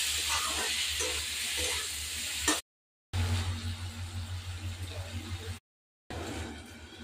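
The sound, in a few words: stirring taro greens and potatoes in cooking pan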